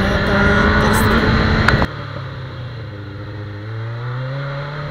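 A Suzuki GSX 750 F motorcycle engine revs loudly and close during a test ride. It drops abruptly just before the halfway point, then settles into a steadier hum that slowly rises in pitch as it accelerates.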